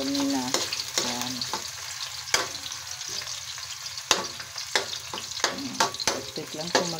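Boiled meat sizzles in a pan with sautéed onion and garlic, a continuous close frying hiss broken by sharp scraping stirs and clacks, with a voice murmuring briefly at the start.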